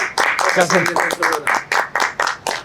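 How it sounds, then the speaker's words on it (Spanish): Audience claps in a podcast studio setting for the sponsors, a series of rhythmic bursts of clapping about every quarter second, fairly loud and close, with no talk over it. "un fuerte aplauso porque son los auspiciadores."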